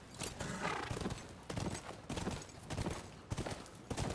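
Horse hooves clip-clop steadily while a character rides in The Last of Us, a quiet, irregular run of thuds under muffled game ambience.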